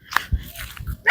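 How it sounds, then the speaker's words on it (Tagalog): Pet dogs at a home, a few short close yips and barks in quick succession, brief and fairly loud. "Dito yung mga alaga silang aso ngayon."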